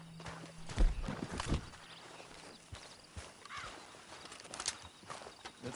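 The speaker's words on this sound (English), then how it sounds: "Then you better get on this horse." Horse hooves clip-clopping at a walk, with a few irregular louder thuds early on and lighter scattered hoof steps afterward, fairly close by.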